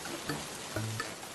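Rain falls steadily in a village, a continuous soft hiss of drops on surfaces with a few faint ticks, moderately quiet and evenly spread, no voices over it.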